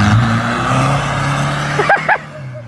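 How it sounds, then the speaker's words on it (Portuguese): A Corsa B car engine runs steadily, with short rev bursts near the end. The sound is close and loud, and no one speaks. "Olha lá, ele quer acelerar, cara."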